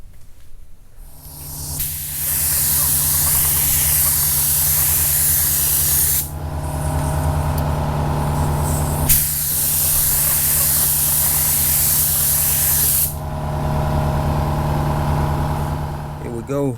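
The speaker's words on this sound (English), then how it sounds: "Now I get ready to spray my clear." A spray gun applying clear coat to a Chevy Caprice hisses in two long sustained bursts separated by brief pauses, loud and close, over a low mechanical hum.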